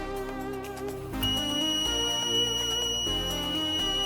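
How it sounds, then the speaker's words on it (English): An electronic alarm buzzer on an induction motor protection system sounds for a vibration fault, steady high-pitched tones over a droning hum, continuous and fairly loud throughout. "buzzer will turn on"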